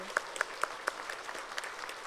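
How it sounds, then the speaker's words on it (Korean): A church congregation claps briefly in welcome, a scattered burst of applause with a few sharp claps standing out, fading quickly. "우리 환영의 박수 한번 하겠습니다"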